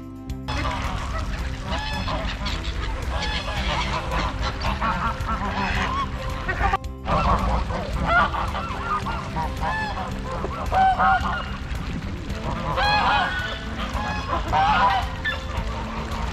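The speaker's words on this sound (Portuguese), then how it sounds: "O pato é uma ave que fornece ovos e carne." Loud, continuous honking and quacking from a crowded flock of ducks, many birds calling at once throughout, close and busy.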